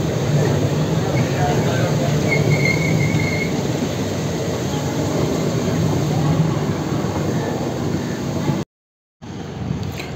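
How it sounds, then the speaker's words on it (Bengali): Tebhaga Express train running steadily just after leaving Malda Town station, a continuous loud rumble of wheels and carriage noise throughout, with a brief dropout near the end. "ট্রেন মালদা টাউন স্টেশন ছেড়ে তার পরবর্তী স্টপেজ বারসইয়ের দিকে এগিয়ে চলেছে"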